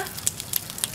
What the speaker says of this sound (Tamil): இப்போ நம்ம இதை தவாவில் வச்சு ஃப்ரை பண்ணி எடுக்க போகிறோம்.